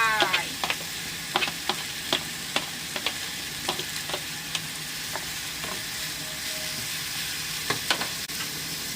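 Carrots and other vegetables are stir-fried in a lightly oiled pan, the spatula clicking and scraping in an irregular rhythm over a constant close sizzle.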